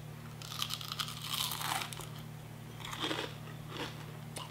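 Close, loud crunching bites and chewing of crispy beer battered onion rings, with bursts of crackly crunch repeating over a few seconds and no talking.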